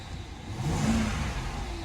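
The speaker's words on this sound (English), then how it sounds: "Look at how nicely that thing revs." A BMW 750Li engine revving at idle, a smooth rising and falling rev with a steady mid-pitched hum, heard close and alone.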